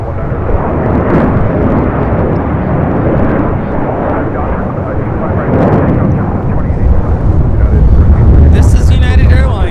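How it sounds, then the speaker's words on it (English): A United Airlines Boeing 757-200 roars down the runway on takeoff at LAX, a loud, steady broadband engine rumble with low wind buffeting that swells toward the end. "This is United Airlines 1331 taking off to Newark on a 757-200"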